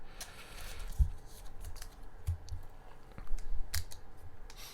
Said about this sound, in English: You have to essentially you have to cut them with scissors because they're so hard to open.